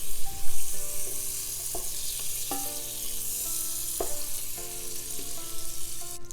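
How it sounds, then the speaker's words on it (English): A full stick of butter melting in a hot pan, giving a steady close sizzle and crackle with intermittent clinks and scrapes of a utensil against the pan. "So we start with 1 stick of organic butter, or any butter, but 1 stick, and let that melt"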